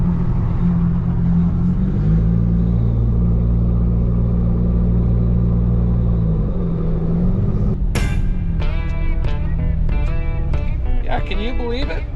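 A Jeep climbing switchbacks in Zion National Park, its engine a steady loud rumble from inside the vehicle, with sharper tonal mechanical sounds or whines layered over the last few seconds.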